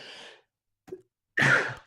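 A man gives a short breathy cough close to the mic, then after a pause a louder, harsher cough-like burst.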